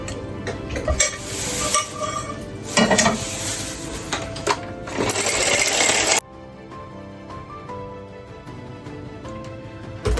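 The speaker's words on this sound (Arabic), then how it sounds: "مع الفلو مرة تنحركو باش ما يجمدش" A tiramisu mixture is stirred in a pot, giving steady scraping and swirling strokes up close, busier for the first six seconds and then quieter and softer, with no talking.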